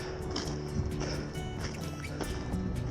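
Waves from a lake washing against a rocky shore near Split Rock Lighthouse, with small bits of ice mixed in the water. A steady, close churning slosh runs throughout, with splashy surges breaking through at intervals.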